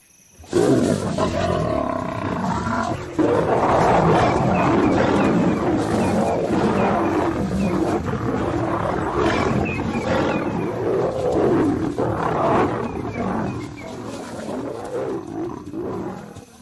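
Lions roaring at night in Africa, heavy, drawn-out roars close by and loud, rising and falling in repeated waves for the whole stretch, with no talking.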